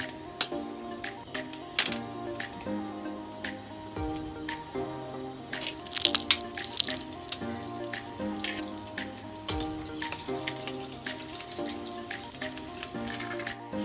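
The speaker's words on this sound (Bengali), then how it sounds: "আবার কড়ার মধ্যে তেল দিয়ে নেব এবং এর মধ্যে দিয়ে দেবো দুটো ডিম" Oil sizzling in a wok as two eggs fry, a steady crackle with scattered sharp pops and spits close by, continuous throughout with no voices.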